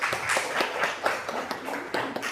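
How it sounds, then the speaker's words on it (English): Light applause from a conference audience welcoming a speaker, a thin scattering of individual claps with a loose, uneven rhythm, fairly quiet and brief. "Join me in welcoming Nikita with a warm applause"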